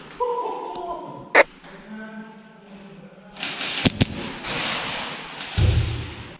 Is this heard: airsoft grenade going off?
yes